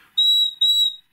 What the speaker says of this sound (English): So this is a little like a bird whistle.